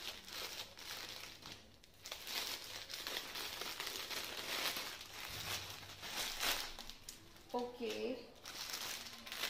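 Plastic packaging around a bomber jacket crinkles and crunches continuously as it is cut open and handled, loud and close throughout, with a brief spoken word near the end.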